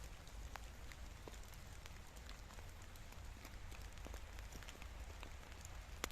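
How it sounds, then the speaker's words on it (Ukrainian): Rain falling steadily outdoors on a field, a dense even patter with scattered sharper drops, constant and moderately loud with no voices. "бо дощ все сильніше стає"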